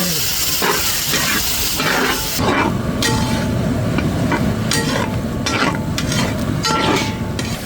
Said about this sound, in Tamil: வெங்காயம் நல்லா வதங்கிச்சு.